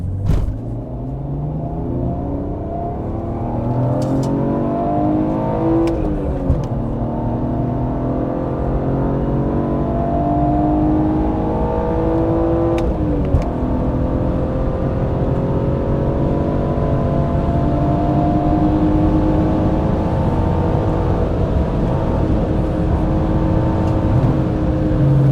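A BMW E46 M3 engine revs continuously under load while driving, with repeated sharp throttle blips and pitch swings during heel-and-toe downshifts, a loud steady roar with rising and falling tones throughout.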